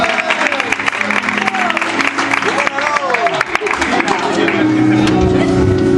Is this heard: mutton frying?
no